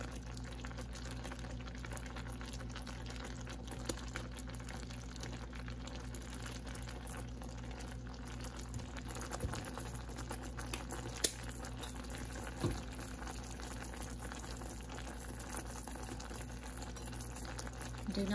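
A steady, low bubbling simmer of thick sugar syrup for lollipops boiling in a pot, continuous and fairly quiet, with a faint clink near the middle.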